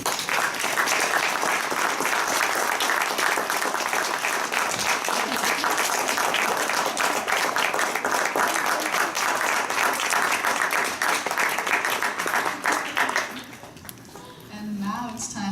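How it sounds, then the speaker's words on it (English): An audience applauds a university ecofeminism panel at the close of questions: sustained, dense clapping from a room full of people, loud and even for about thirteen seconds before dying away, with a voice speaking faintly as it ends. "If we can just give everyone a round of applause"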